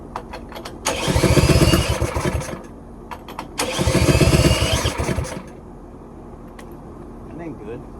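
A small go-kart engine with the choke on cranks and catches twice, each burst running loud and rough for a couple of seconds before dying back, with a person talking around the attempts.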